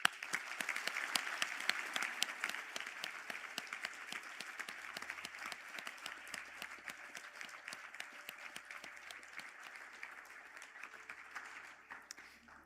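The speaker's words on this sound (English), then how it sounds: "I ask the graduates of the Bachelor of Business Honours in Accounting to stand for a round of applause." Sustained applause from a conferring ceremony audience as business accounting graduates stand, dense clapping that stays steady for several seconds before thinning and fading toward the end.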